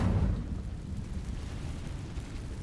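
Incendio fire spell cast in a wizard video game: a sudden fiery burst at the start, then a low rumbling roar that lingers quietly for a couple of seconds.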